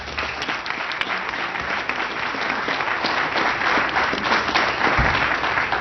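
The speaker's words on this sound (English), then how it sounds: "join with me in giving them a round of applause" Full, continuous applause from the audience at a school board meeting, many people clapping together at steady, fairly loud volume throughout.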